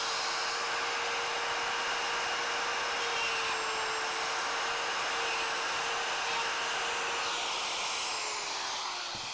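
A router cuts mortises for loose tenons in a wooden piece, a steady high-pitched whine with broadband cutting noise running continuously at close range, tapering slightly at the end.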